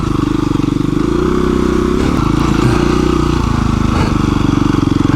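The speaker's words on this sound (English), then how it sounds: "I'm lugging the engine here, that's not good." A KTM 350 EXC-F dirt bike engine lugs at low revs close by on a single-track trail, a steady, heavy thumping that strains without climbing in pitch, with a few brief rattles.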